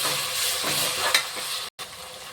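Onion and ginger garlic paste fry in a pan for vegetable pulao, giving a steady close sizzle with soft stirring and a brief break near the end.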